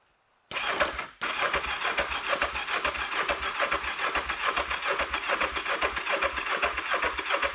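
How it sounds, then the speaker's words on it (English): Kawasaki GPZ 500S motorbike engine, left unused for four years, being started on choke. After a short cranking burst it catches and settles into a loud, steady, fast-pulsing idle close to the microphone, with no talking. "Bit more choke on."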